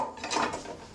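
Green pesto scraped from a food processor into a bowl, a soft brief rustle of scraping followed by a sharp clink of utensil on dish at the end.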